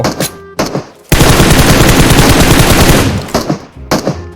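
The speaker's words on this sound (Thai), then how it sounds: "บอดยิงกัน" Automatic gunfire in the PUBG video game as bots shoot each other, a loud sustained machine-gun rattle lasting about two seconds, framed by shorter shots before and after, close and without talk.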